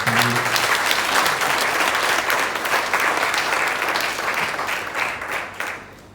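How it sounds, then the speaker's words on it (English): At an annual general meeting, the audience gives a Deputy Minister of Planning and Economic Development a sustained round of applause, dense and loud at first, gradually thinning and fading toward the end. "I think he deserves a more round of applause for that"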